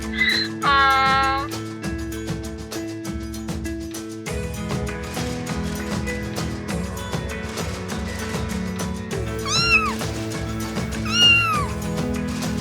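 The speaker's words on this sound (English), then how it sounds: "A cat meows." A cat meows, several clear, rising-and-falling cries near the start and again later, over bright children's background music.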